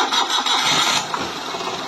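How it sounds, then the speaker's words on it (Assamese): A Maruti Suzuki Alto 800 car brought in for repairs, with a problem of long cranking, is started: the starter grinds loudly for about a second, then the engine catches and settles into a quieter, even idle. "চলো এতিয়া মই গাড়ীখন ষ্টাৰ্ট কৰি পেলাই দেখুৱাই আছো"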